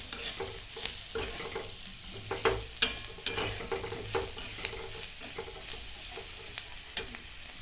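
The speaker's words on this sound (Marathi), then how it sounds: "एक चमचा गरम मसाला पण टाकला आहे त्याला चांगला हलवून घ्यायचा आहे" Onions frying with chilli powder and garam masala for chana bhaji, stirred with soft repeated spoon scrapes over a continuous low sizzle, close and fairly quiet, with no talking.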